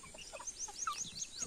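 Chickens on a small mini farm give short, chirpy clucks and peeps, several birds overlapping in quick, faint bursts.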